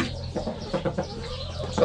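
Morning chickens cluck in short, soft bursts at close range on a farm in southwest France, a few quick broken calls with faint background noise.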